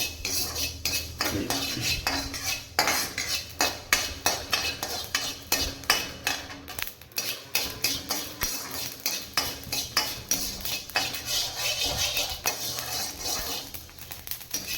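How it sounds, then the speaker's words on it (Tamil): Mustard seeds and fenugreek dry roasting in a pan, dominated by a steady run of rhythmic metallic scraping and clinks from a spoon stirring against the pan, with faint crackle beneath. "இந்த வெந்தயமும் கடுகும் வந்து வடை சட்டியை வச்சு சூடு பண்ணி எடுத்துக்கலாம்"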